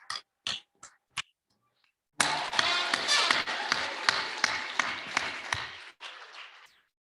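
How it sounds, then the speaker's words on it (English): A few separate claps come first, then after a pause an audience breaks into sustained clapping, steady and fairly close, which tapers off near the end. "And we are going to clap for you."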